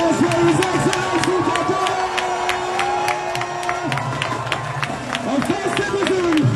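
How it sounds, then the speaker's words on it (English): A dense outdoor crowd at the Calabar Carnival claps steadily and cheers for His Excellency, rhythmic clapping running the whole time under voices and whoops, loud and close. "A round of applause for His Excellency"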